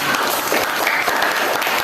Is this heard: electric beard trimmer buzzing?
no